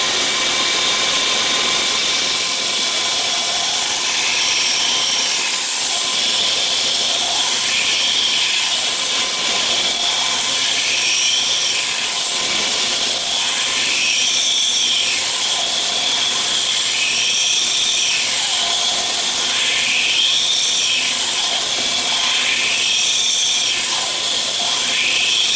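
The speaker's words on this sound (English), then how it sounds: "This belt's making short work of this knife." A belt grinder runs at very slow speed, grinding the blade of a hand-made ring knife. The machine hums steadily and loudly throughout, with the grinding pitch rising and falling in repeated passes as the knife is worked against the belt.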